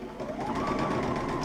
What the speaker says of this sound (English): you're just going to stitch all the way down the long length of that fabulous strap